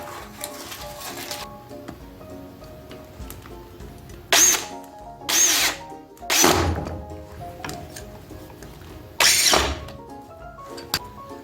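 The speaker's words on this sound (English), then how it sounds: "Let's screw it together." A power drill drives screws into a homemade New Year's ball drop assembly up in the rafters: four or five short, loud whirring bursts separated by quieter pauses.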